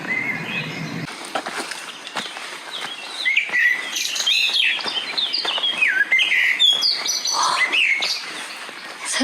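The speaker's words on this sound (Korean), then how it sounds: "새소리가" Several birds chirp and trill continuously among the rock cliffs of Meteora, Greece, their overlapping calls surrounding the listener against a soft outdoor background.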